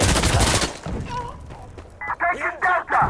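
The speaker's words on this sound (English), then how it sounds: "Artillery incoming!" Artillery explosions and gunfire in the video game Insurgency Sandstorm: a loud burst of rapid shots at the start, then a series of sharp blasts toward the end, with voices calling out in between.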